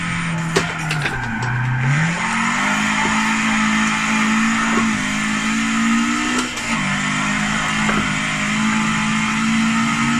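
Nissan S14 lapping a circuit in Forza Motorsport 7, tuned as a Kenta tribute: a steady engine drone rises and falls through gear changes, loud and continuous, with no talk over it.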